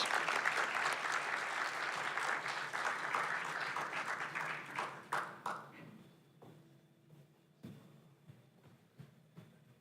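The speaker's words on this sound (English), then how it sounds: "let's give them all a round of applause and get them up on the stage" Loud audience applause at a talk event as speakers are called onto the stage fills the first half, then thins out into scattered claps and quieter room noise.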